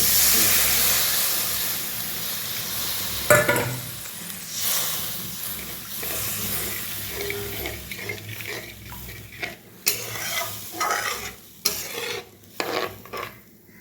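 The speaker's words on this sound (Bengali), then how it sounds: "মশলাটা আমার কষানো হয়ে গেছে, এবার গরম জল" Hot water poured onto fried spice paste in a pan sets off a sharp hissing sizzle and steam at the start. It settles into a quieter bubbling, broken later by clinking stirs against the pot, with no one speaking.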